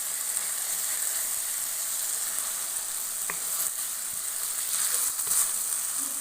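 Butter melting into thick dal mash frying in a pan sends up a continuous close sizzle and hiss, with a few light clicks of a spoon and no voices.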